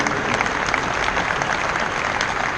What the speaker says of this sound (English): these three events deserve another round of applause